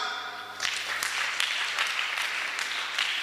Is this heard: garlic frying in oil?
no